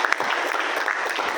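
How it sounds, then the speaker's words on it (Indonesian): Audience at a police focus group discussion on modern policing claps steadily in a dense, sustained round of applause, loud and close throughout. "kita harus beri aplaus kepada perwakilan Guru Besar yang ada di sini"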